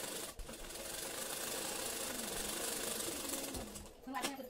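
A sewing machine stitching the back panel of a katori blouse whirs in a steady, fast mechanical chatter for several seconds, close by, then stops briefly near the end.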